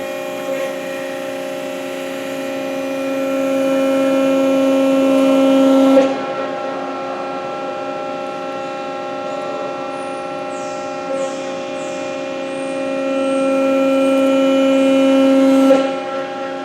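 A 10-foot Cincinnati Autoform 90-ton CNC hydraulic press brake runs with a steady pump hum and a whine that rises over two repeated cycles, each ending in a short hiss as the pressure releases.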